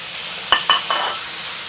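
Pork intestine hits cold oil in a hot wok, giving three sharp sizzling bursts in quick succession that fade into a soft, steady fry close by.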